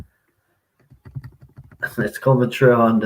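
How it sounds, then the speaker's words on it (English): Computer keyboard typing carried over a voice call: a quick run of light clicks starts out of near silence and builds, then gives way to louder, voice-like sound at the end. "If you're typing, if you could just mute your self because it's coming through on the"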